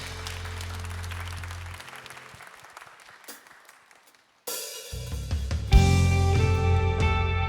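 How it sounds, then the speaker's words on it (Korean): A church congregation at a Sunday worship service claps in a wide, reverberant hall. The applause fades to near silence, and then the band's worship music comes in loudly. "우리 그 주님께 우리 영광의 박수 올려드리면서"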